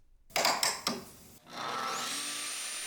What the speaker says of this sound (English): You just spray high pressure air.